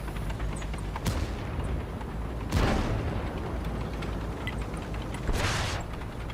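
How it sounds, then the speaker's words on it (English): Tank gun firing at a track in World of Tanks, three heavy booming shots spaced a couple of seconds apart over a steady rumbling background. "I shoot at his track"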